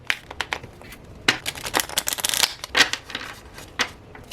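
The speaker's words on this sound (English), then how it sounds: "let's go ahead and shuffle" Rapid riffling bursts of cards being shuffled, crisp clattering flurries with short pauses between, fairly close and moderately loud.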